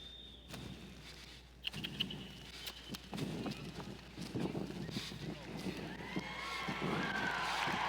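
Horse loping around an arena at a horsemanship competition event, with hoofbeats landing as a steady run of soft thuds beneath frequent nearby talk.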